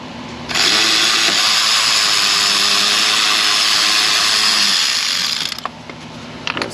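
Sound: ratchet removing engine nuts and bolts with 8 mm socket

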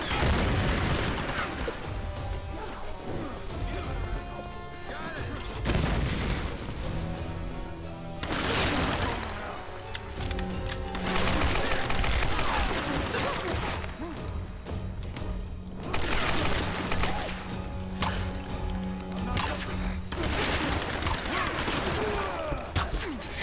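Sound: bombs and gunfire in Tomb Raider video game

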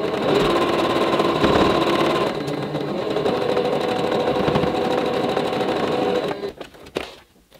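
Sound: sewing machine stitching quilt block pieces

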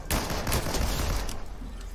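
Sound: gunfire in Fortnite video game

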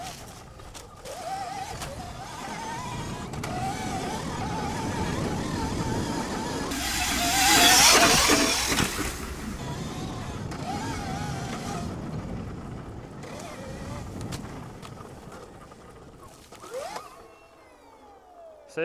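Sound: electric dirt bike accelerating while riding

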